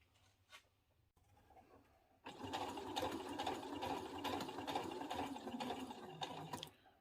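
A sewing machine runs steadily for about four and a half seconds, stitching a dress, with a dense mechanical whir that starts abruptly after a few quiet seconds and stops near the end; no talking.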